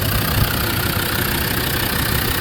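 Land Rover Defender TD5 five-cylinder diesel engine idling with the bonnet open, a steady, continuous low rumble heard up close with no talking.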